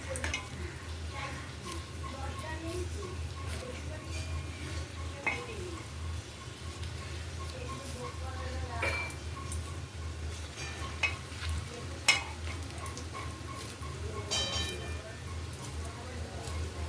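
Oil sizzles and food fries in a wok, with occasional scraping stir strokes and light clinks of a utensil over a continuous crackling hiss, while a person talks intermittently.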